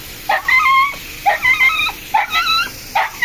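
A puppy whimpers and yips while being bathed, giving four close, high-pitched whining bursts in an uneven rhythm.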